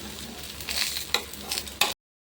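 Rava dosa frying in oil on a pan over a full flame, a continuous crackling sizzle with a few sharper spatters and scrapes before it cuts off abruptly.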